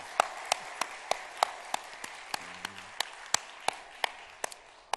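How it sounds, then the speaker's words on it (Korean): A church congregation applauds during a 39th anniversary worship service: a sparse, fairly quiet run of individual claps, unevenly spaced, with a faint voice murmuring briefly in the middle. "우리 하나님께 감사와 찬양의 영광의 박수 올려드리시겠습니다"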